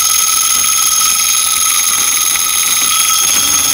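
A small handmade coil motor spins with a continuous, high-pitched electric whine and buzz, loud and close, holding steady from start to finish with no speech.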